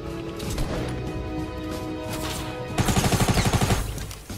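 Rapid bursts of gunfire in the Fortnite video game, a steady run of shots giving way to a tight rhythmic volley of loud, close reports near the end.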